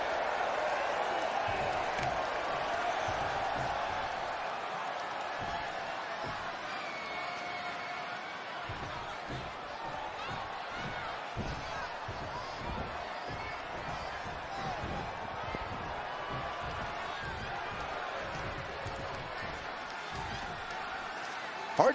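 Arena crowd noise in the WWE 2K20 wrestling video game during a Monday Night Raw show, a steady roar with scattered thuds and claps, with commentary voices talking over it throughout.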